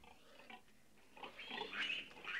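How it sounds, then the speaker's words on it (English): Pigs in a hut on a farm, grunting and squealing at a moderate distance. The calls are faint and scattered at first, then grow louder and more continuous toward the end. "Nice bunch of pigs."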